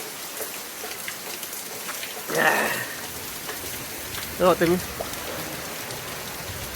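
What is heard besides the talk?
heavy rain falling in a village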